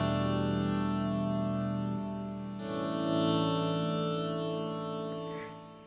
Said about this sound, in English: I just added a lot of stereo delay and a lot of reverb to it